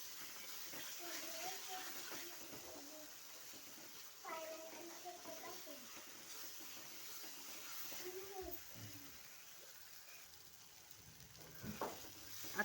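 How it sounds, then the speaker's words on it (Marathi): Chicken masala roasting in oil in a pan for a village-style chicken curry, with a soft steady sizzle, occasional scraping stirs and a few light knocks, quiet and close, with a voice briefly heard. "छान तेल सुटेपर्यंत भाजून घ्यायचं आहे आपल्याला सारखं हलवत राहायचं"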